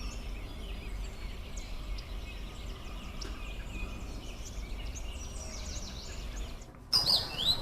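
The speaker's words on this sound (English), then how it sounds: "This little guy's singing his heart out." A small songbird sings outdoors near a lake shore, faint chirps and twittering scattered over steady wind or water rumble, with a brief louder handling noise near the end.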